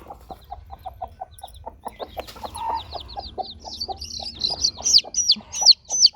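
A mother hen clucks in a steady series of short calls while her small chicks peep in rising, high chirps that grow louder toward the end.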